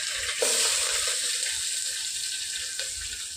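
Onions frying in a hot pan with cumin seeds and curry leaves, a steady close sizzle with a brief louder crackle as they go in, no talking.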